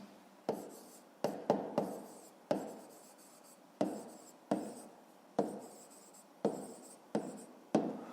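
A pen writing numbers on paper during a fifth-grade maths exercise, heard as a quiet, close series of short scratchy strokes with pauses between them and no talking.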